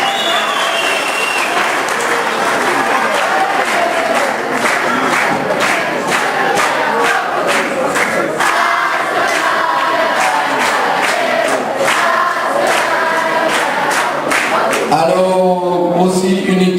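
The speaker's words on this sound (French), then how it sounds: "Je pense qu'on peut les applaudir" Loud, sustained applause from a large audience at a youth group's evening show, dense clapping throughout with some cheering voices near the end.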